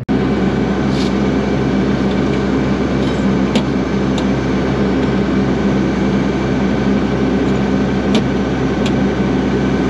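A combine harvester's engine runs steadily in a corn field during grain corn harvest, a loud continuous drone with a few brief clicks and no voices.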